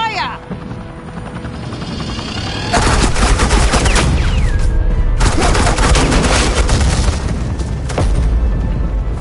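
Suppressing gunfire in the Batman: The Enemy Within video game: heavy sustained automatic fire and booming blasts kick in abruptly after a quieter start with a helicopter-like drone, staying loud and dense with brief pauses.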